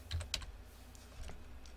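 Typing on a computer keyboard during a modded Minecraft session, with a few quick, close key clacks near the start and a softer flurry later, over a low room hum.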